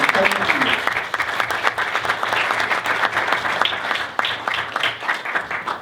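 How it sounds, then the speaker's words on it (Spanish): Audience applause at a university debate tournament final fills the whole stretch, a dense, steady wash of many hands clapping that stays loud throughout with no voice above it. "Un aplauso, por favor, para él."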